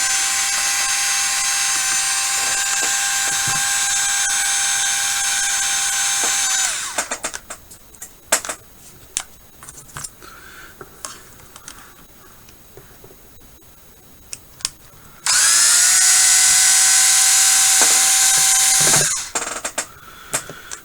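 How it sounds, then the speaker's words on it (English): A cordless power driver whirs loudly in two sustained bursts while removing nuts during a sway bar install, separated by a quieter stretch of clicks, taps and handling noises; no talking. "We've got some nuts here on the back side. I like to use my power driver as much as I can."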